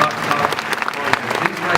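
Audience at SeaWorld applauding after a wild animal showing, scattered distinct claps rising and falling with crowd murmur and a voice talking underneath.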